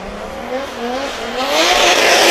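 A BMW E36 drift car with a turbocharged M50 engine launches on a Pro qualifying run at a British Drift Championship round in Birmingham, its loud engine climbing steadily in pitch as it accelerates, with tire noise building toward the end.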